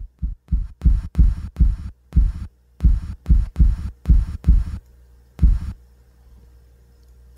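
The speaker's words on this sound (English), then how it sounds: "when I hit the pad here, it triggers that little kick drum sound" A little kick drum sample triggered from an MPD-24 drum pad thumps about a dozen times in an uneven rhythm, close and punchy, before stopping under a faint background hum.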